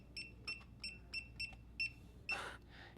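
A SECURAM SafeLogic smart safe lock keypad gives seven short, evenly spaced beeps as a code is entered, quiet and close, followed by a longer confirmation tone and a faint click.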